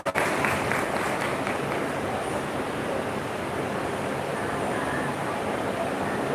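A crowd at an Independence Day celebration applauding a speaker walking on stage, a continuous wash of many hands clapping, loud and steady throughout with no talk.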